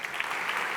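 Warm audience applause at a ceremony, a dense steady patter of many hands clapping filling a brief moment.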